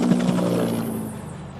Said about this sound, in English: Oh, I think a Huey is coming.